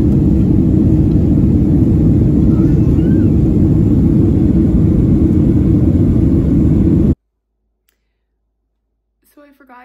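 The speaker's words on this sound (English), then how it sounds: "We're on a huge plane." Steady, loud low roar fills a large passenger plane cabin for about seven seconds, then cuts abruptly to near silence before a faint voice speaks at the very end.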